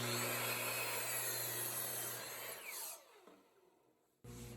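A saw cutting a miter through a wooden handrail, a loud steady buzzing cut that winds down and fades to near silence before a brief burst of noise returns at the end.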